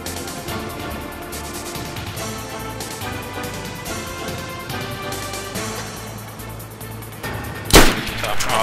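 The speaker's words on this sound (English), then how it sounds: "Oh, they shot." Gunshots ring out in a video game battle, one sharp loud blast standing out near the end over a steady backdrop of game noise and music.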